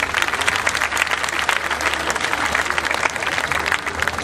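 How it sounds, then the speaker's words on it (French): Dense, steady applause from the audience at an official youth event session, continuous and fairly loud throughout with no voices over it. "on peut les applaudir"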